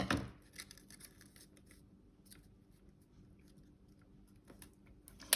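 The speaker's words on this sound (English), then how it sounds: "you're cutting it, you're pressing it down, making sure you keep it straight" Scissors snip through thin paper strips being cut for an iris-folding card with an oval frame, with a sharp cut at the start and another at the end and quiet paper handling between.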